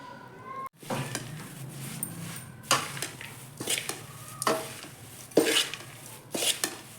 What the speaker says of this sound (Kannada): ಲೋ ಫ್ಲೇಮಲ್ಲಿ ಇಟ್ಕೊಂಡು ಮಿಕ್ಸ್ ಮಾಡ್ಕೋಬೇಕು